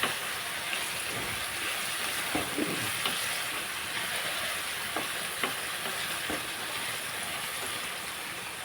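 Tomatoes and ridge gourd pieces sizzle steadily in a hot pan, a loud continuous fry broken by occasional scraping stirs, with no talking.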